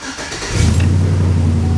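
A Chevy 1500 old work truck engine cranks briefly and then catches, settling into a loud, steady idle rumble close by.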